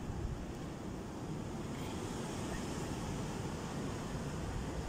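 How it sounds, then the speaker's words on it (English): Steady, roaring wind from a storm in Germany buffeting the microphone with a constant low rumble, no voices. "It's really windy right now."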